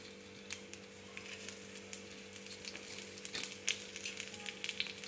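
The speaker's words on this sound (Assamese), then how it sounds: "এইখিনি অকণমান ভালদৰে তেলত ভাজি ল'ব লাগিব" Dried fish frying in a little oil on a tawa, making a soft, continuous crackle and sizzle with scattered small pops throughout.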